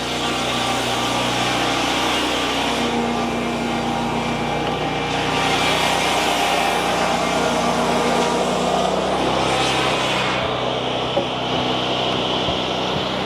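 A sawmill cuts a bevel in spruce siding, a loud continuous engine-driven whine and rumble that holds steady, shifting in pitch and load as the cut progresses.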